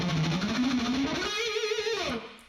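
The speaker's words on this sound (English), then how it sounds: "the most interesting guitar thing in the song is the fast picking part that sounds something like" A fast picking passage on an electric guitar with a heavy metal tone, rapid evenly spaced notes forming a rising and falling distorted line, played up close with no speech, ending in a brief fade.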